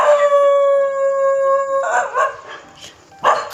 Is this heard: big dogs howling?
yes